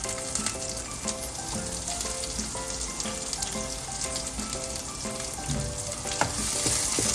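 Onions and garlic fry in a pan, a dense continuous sizzle with light scattered crackles, steady throughout.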